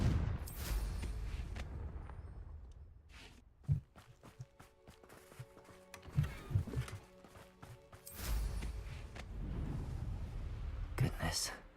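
Confringo blasting spells firing in Hogwarts Legacy combat, a series of sharp explosive cracks and impacts spread irregularly through the clip, with a voice speaking between them.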